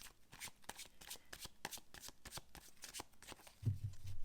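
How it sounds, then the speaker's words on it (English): Close, soft riffling as a deck of slightly sticky tarot cards is shuffled in quick regular strokes, ending with a low thump as the deck is tapped or set down. "I'm going to get a few cards laid out to give us some guidance."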